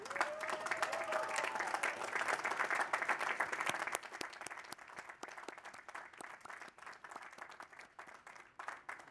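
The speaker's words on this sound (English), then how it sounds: "I invite all graduates who can to stand and to applaud those in their lives that made this moment possible" Graduates at a university school of architecture commencement ceremony applaud, a broad, steady wash of many hands from a large crowd that thins to scattered, softer claps in the second half, heard from a distance.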